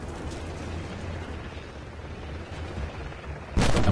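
A tank main gun fires in the video game Armored Warfare, one loud sudden blast near the end after a low rumbling engine drone.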